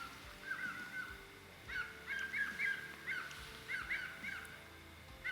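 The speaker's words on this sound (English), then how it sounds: "Just birds." Birds call in cold morning woods during deer season, a series of repeated high chirps and whistles in short bursts, moderately distant over a steady outdoor hush.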